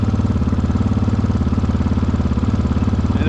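A 2022 GPX FSE300R motorcycle idles on its richer alternate fuel map, a steady close-up thrum with a fast, even pulse running unbroken and alone.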